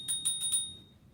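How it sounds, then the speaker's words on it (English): A bell on a Ride1Up Roadster V2 single-speed belt-drive electric bike rings four quick, bright dings close to the microphone, then fades into a short ringing tail. "there's a bell"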